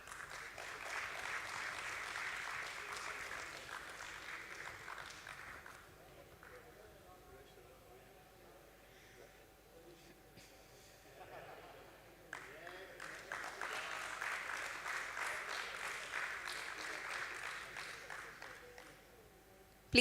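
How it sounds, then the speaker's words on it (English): An audience at a stock exchange listing ceremony applauds for Mr. Keval Handa, two stretches of crowd clapping separated by a quieter gap with faint voices, moderately distant. "Let's have a round of applause for him, everybody."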